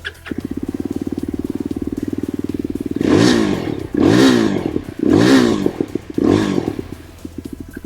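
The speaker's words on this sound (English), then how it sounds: "we have removed the dB killer from our motorcycle, so the sounds may vary a little bit" A 2024 Yezdi Adventure motorcycle with its dB killer removed idles with a rapid, even exhaust thump, then is blipped through four loud, rough revs, each rising and falling back to a popping, crackling idle.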